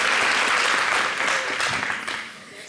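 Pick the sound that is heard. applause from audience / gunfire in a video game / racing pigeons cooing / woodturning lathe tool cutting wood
applause from audience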